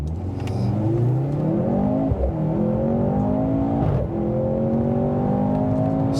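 A 2023 Mercedes-Benz C43 AMG sedan with a 402 hp four-cylinder pulls away from a standstill in Sport Plus mode, its loud engine rising steadily in pitch through two quick gear changes, close and continuous with no talk.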